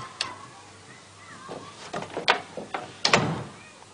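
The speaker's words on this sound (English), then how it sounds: "I'll make sure I close the door very firmly behind me." A door pushed firmly shut indoors, heard as several knocks and clunks of wood and latch spread across a few seconds, with a sharper thud near the end and some faint voice murmur in the room.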